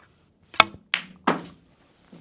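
A snooker cue strikes low on the cue ball for a screw shot: one sharp close click, then two fuller knocks of balls colliding, and a faint tap at the end, with no voices.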